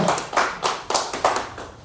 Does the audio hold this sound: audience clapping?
yes